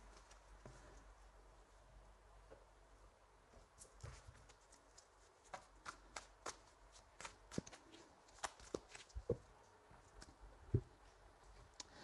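Tarot cards handled and shuffled at close range in a quiet room, soft riffling and light slaps that grow into sharper taps in the second half, with no talking.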